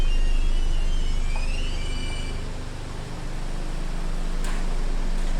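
A VW Golf R Mk7 engine idles steadily after a remote start, a low constant hum and rumble heard close up and alone, dipping slightly midway before evening out again.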